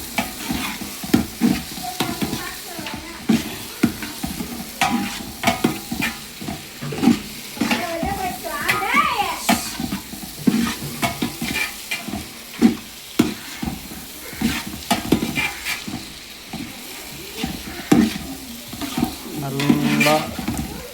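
A kilo of tomatoes sautés in a pan for chicken Kerala curry, giving a steady loud sizzle broken by repeated scraping stirs of a spoon across the pan.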